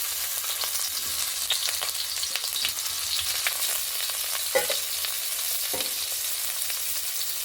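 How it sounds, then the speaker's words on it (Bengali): Chopped onion and slit green chilies fry in a small amount of oil in a pan, giving a steady, close sizzle with occasional stirring scrapes and no voices. "পেঁয়াজটা নুন দিয়ে ভেজে নেব।"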